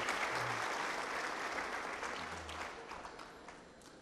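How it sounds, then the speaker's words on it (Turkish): Audience applause at a Galatasaray club meeting, a full, dense ovation from a large crowd that slowly tapers off toward the end. "tekrar alkışlamak istiyorum kendisini"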